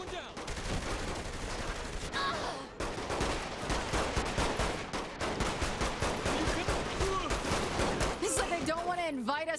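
Dense gunfire in the video game Saints Row The Third: rapid, loud bursts of automatic shots crackle almost without pause, with short gaps between volleys.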